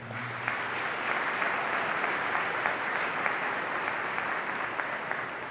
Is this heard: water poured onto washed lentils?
no